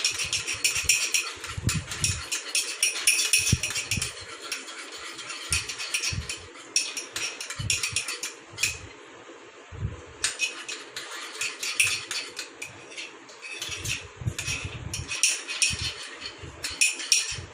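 Two ketchups being mixed together in a bowl with a spoon, producing irregular clinks and scrapes of cutlery against the dish, close by, with brief pauses between bursts of stirring.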